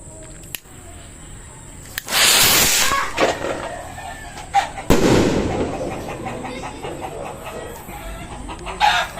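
Big kwitis rockets and super jumbo fireworks are test fired outdoors: a loud whooshing launch, then a sharp bang and crackling bursts, with a rooster crowing and chickens clucking nearby and people talking.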